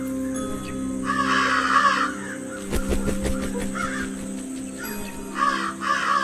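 Crows cawing in the game Shapik The Quest, a few loud harsh caws in separate bursts over a droning musical background, no talking.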